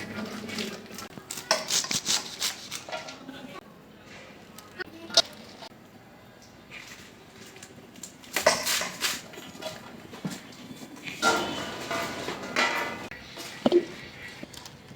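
Fresh winter spinach leaves being cut by hand for a fried greens dish, producing irregular crisp snips and leafy rustles at close range, with scattered clinks of kitchen utensils between bursts.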